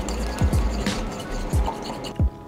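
Horseradish, a few drops of tabasco and soy sauce being stirred together in a small bowl, with soft wet scraping and repeated quick clinks of the spoon against the dish at close range.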